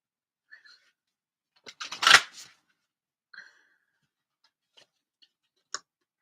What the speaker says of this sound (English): let me get some cards from the Voice of the Souls Oracle